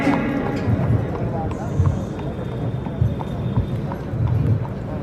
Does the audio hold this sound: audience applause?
no